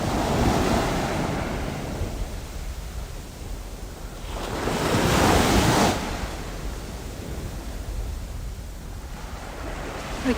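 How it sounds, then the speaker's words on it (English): Ocean waves breaking on a beach at sunrise, a steady rushing surf with one louder wave swelling and crashing midway, plus wind noise on the microphone. "Just listening to the sounds of the waves."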